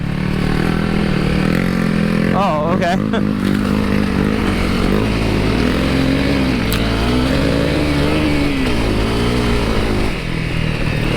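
A Honda CRF250L dirt bike revving hard while climbing a steep, technical trail in second gear, a loud continuous engine drone rising and falling in pitch, close to the rider, who briefly speaks over it.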